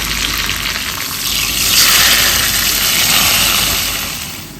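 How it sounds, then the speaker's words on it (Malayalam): Mustard seeds, curry leaves and chili sizzle loudly in hot oil for a red snapper fish head curry, a steady bright crackling hiss that swells midway and holds, with no talking. "നമുക്ക് കടുക് ഇട്ട് കൊടുക്കാം കറിവേപ്പില കറിവേപ്പില മുളക്"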